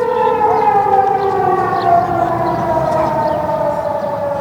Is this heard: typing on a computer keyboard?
no